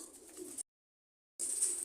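Pigeons in a loft give soft, low coos over a faint airy hiss, two short bursts separated by a full break of silence.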